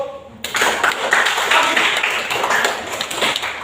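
A burst of clapping from a group at a high school sprint athletics lesson, steady and dense for several seconds, with some voices mixed in.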